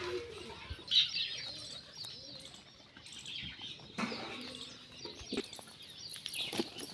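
Pigeons gathered together coo softly with a few flutters of wings, a steady busy flock murmur with scattered rustles and brief chirps, no talking.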